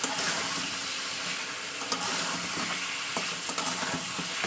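Spices with salt and turmeric being sautéed in a pan for a chicken curry, a continuous bright hiss of frying with intermittent scrapes and clinks of a large spoon stirring, close and steady.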